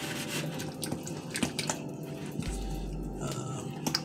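Minced garlic stirred into mayonnaise in a bowl, with soft, close, wet squishing and smacking sounds repeating irregularly at low volume.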